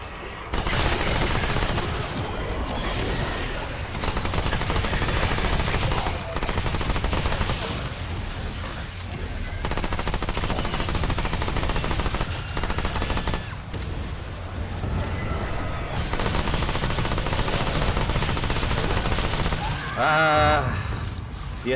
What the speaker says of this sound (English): The SMG, the good old bullet hose.